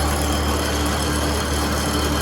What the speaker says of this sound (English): So we'll start the grinding wheel first.